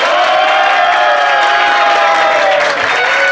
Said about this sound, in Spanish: Y aplausos para los participantes número tres